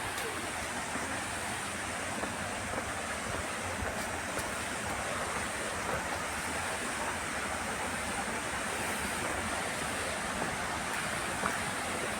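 Water rushes continuously in a steady, dense roar, loud and unbroken from start to finish.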